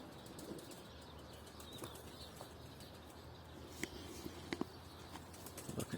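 A pigeon flapping its wings in flight, faint and distant soft wingbeats over outdoor background noise, with a few sharper flutters near the end.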